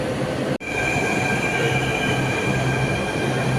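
A train rolls through a station with a steady, loud rumble and rail noise, and a faint wheel squeal rises over it. A brief dropout breaks the sound near the start, then the continuous roar carries on without voices.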